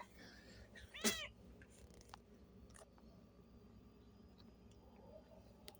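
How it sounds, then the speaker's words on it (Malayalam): A single short cat meow near the start, fairly close, followed by quiet room ambience with faint scattered clicks. "ഇതാണ് പൂച്ച കണ്ടോ ഉള്ളിൽ കയറാൻ നോക്കി നിൽക്കണ പൂച്ച"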